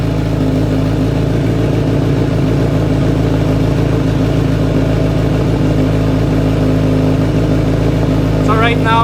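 Kawasaki motorcycle with an aftermarket exhaust idling loudly and steadily up close, a deep, even rumble throughout, with a brief faint chirp near the end.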